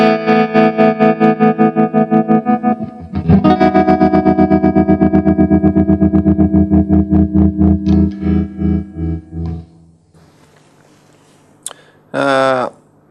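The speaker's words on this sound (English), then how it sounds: "It's a tremolo sound" A distorted electric guitar chord through a Boss GT-3 tremolo effect pulses in a fast, even tremolo that gradually slows and fades, followed by a brief spoken word.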